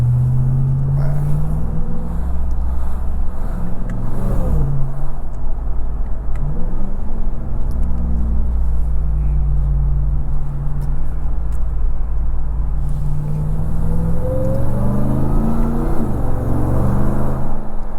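A RAM 1500 TRX Havoc Edition pickup's supercharged engine pulls hard, a deep loud rumble rising through repeated acceleration sweeps as gears climb, heard from inside the cab.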